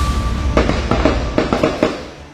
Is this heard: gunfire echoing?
yes